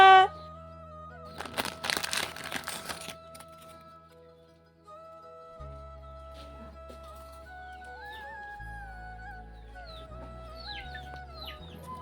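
Chickens cluck intermittently at moderate distance, with a burst of louder, busier farmyard noise early on and steady low background hum throughout.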